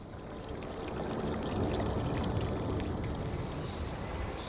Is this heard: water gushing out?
yes